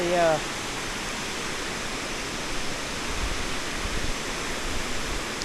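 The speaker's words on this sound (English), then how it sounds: "these rocks that the water's cascading over" Water rushes and tumbles over old rocks at Marokopa Falls near Waitomo, New Zealand, in a steady, continuous roar that fills the background.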